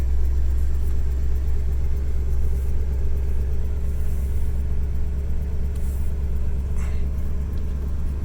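A 1977 GMC Eleganza II 26-foot motorhome engine runs at a steady idle, a loud, continuous low rumble heard up close with no talking.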